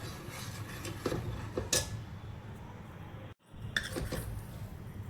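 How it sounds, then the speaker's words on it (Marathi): A spoon stirs cooked dal in a metal pot, giving soft, quiet scrapes and light clinks in a loose rhythm close to the mic. "तर इकडे डाळीमध्ये टाकूया हलवून घेऊया डाळ"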